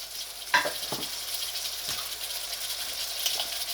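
Tomatoes frying in a pan with kaleji (liver) give a steady, soft sizzle throughout, marked by a few sharp clinks and scrapes of a spoon against the pan near the start and again later.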